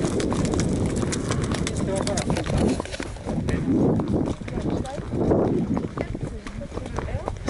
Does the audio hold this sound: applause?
no